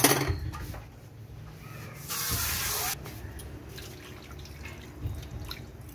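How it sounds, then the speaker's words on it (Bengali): Water is poured into a pot of thin chicken curry, giving a steady splashing and trickling with a brief louder gush in the middle, heard up close and alone. "আমার মনে হয় আরেকটু জল লাগবে, আমি আরেকটু জল দেব।"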